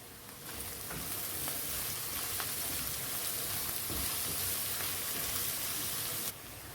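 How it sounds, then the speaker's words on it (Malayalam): Chillies and curry leaves sauté in a pan for chicken curry, giving a loud, dense, continuous sizzle and crackle, with faint stirring scrapes, that stops abruptly near the end. "നല്ലപോലെ ഇതൊന്ന് വഴറ്റി കൊടുക്കാം"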